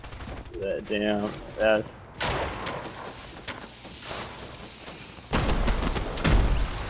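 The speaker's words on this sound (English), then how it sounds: "I got shot in the butt multiple times with a freaking pistol" Pistol shots in a Fortnite battle royale match crack in a quick burst late on, loud and close, after players talk briefly over the game's background noise.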